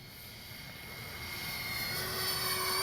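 An X-Fly J-65 RC jet airplane passes low and slow, its steady turbine whine with a rising high tone swelling gradually louder as it approaches, with no talking.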